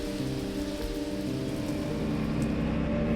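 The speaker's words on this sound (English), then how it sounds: "Hopefully the rain will come down a bit." Steady rain falls on the road during a solo motorbike trip through Sulawesi, Indonesia, a constant even hiss of drops that holds at the same level throughout, close and unbroken, with no voices.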